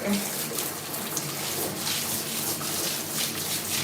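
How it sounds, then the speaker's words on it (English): Hot water runs steadily from a shower into a bathtub as the bottom of the tub is washed out, a continuous close hiss and splash with no breaks. "But first I'm going to wash it out of the bottom of the tub."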